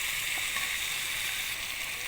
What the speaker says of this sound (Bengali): তো আমি এখানে কিন্তু মাংসটা নেড়ে দিয়েছি, লেগে যাচ্ছে দেখেন নিচে।